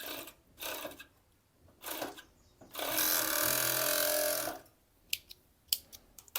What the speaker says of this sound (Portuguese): passar o overlock aqui nessas laterais e no fundo